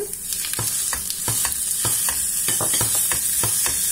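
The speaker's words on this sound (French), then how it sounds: "Et je vais la faire revenir jusqu'à ce qu'elle s'émiette complètement." Ground meat sizzles and fries in a pan while a utensil stirs and scrapes it in a regular rhythm of soft strikes, close up and steady with no talking.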